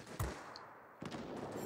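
Aircraft cannons firing in the video game World of Warplanes, two sharp bursts about a second apart over a rumbling engine background, with no talk.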